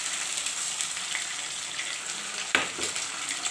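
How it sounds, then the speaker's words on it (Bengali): Black mustard, white mustard and poppy seeds sizzle in hot oil, a steady bright crackle up close, broken by a sudden loud spit and pop partway through. "একটু কালো সর্ষে দিয়ে দিচ্ছি, সাদা সর্ষে দিয়ে দিচ্ছি, আর হচ্ছে একটু পোস্ত দিয়ে দিচ্ছি।"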